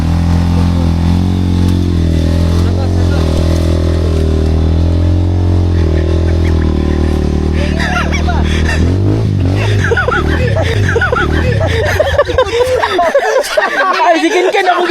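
A motorcycle engine held at a steady rumbling idle, then revved hard into rising, rough bursts toward the end, loud and close, with people talking and laughing over it.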